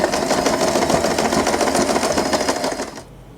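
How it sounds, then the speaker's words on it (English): A sewing machine stitches a fabric bow with tails, a steady fast mechanical run of needle strokes that stops abruptly near the end, close and loud with no talk. "we can start sewing"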